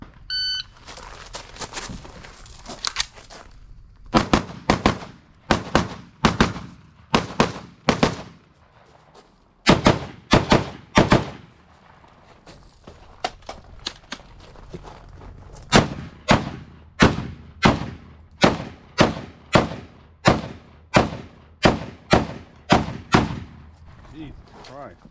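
Rapid strings of loud, sharp rifle shots from a Sig MCX ring out during a USPSA match, fired in fast bursts of evenly spaced reports separated by short pauses, with a timer beep near the start.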